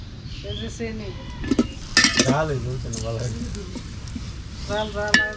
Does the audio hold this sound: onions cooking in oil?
yes